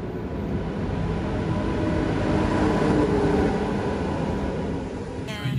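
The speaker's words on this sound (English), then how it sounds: "And so we are on the train." A passenger train on the line between Mostar and Sarajevo rumbles steadily from inside the carriage, a loud continuous roar with a low drone and no breaks.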